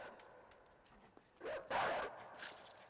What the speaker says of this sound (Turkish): Aa, hala kovalıyor köpek.